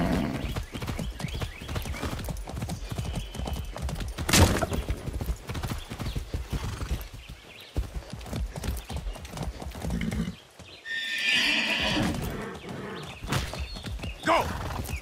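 Horse hooves clip-clop steadily through a Far Cry 6 game scene, with a brief neigh and dense game sounds layered around them, all fairly loud and close.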